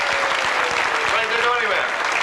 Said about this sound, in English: Let's have a big round of applause for Frank.